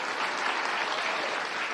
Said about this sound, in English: Ryan Mello, you can give him a round of applause while he works his way to the front of the room.